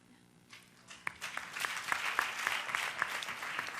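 Applause for a speaker at a Girls in ICT Day event in Rwanda, starting quiet and swelling after the first second into steady, fairly distant clapping from an audience, with a few sharper individual claps standing out.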